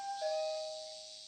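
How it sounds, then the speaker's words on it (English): A front-door doorbell in the Higurashi visual novel chimes once, a clean two-tone ding-dong whose second note rings on and fades, heard quietly with no talking. "I could hear the doorbell ring"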